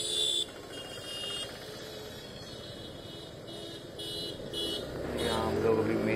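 Steady road traffic on a busy main road with cars and motorbikes, engines droning close by and a horn-like tone at intervals, building louder toward the end; no talking.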